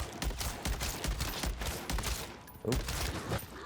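Rapid full-auto bursts from a BP50 assault rifle in MW3 Zombies, with dense, closely spaced gunshots rattling throughout and a sharp pause before firing resumes.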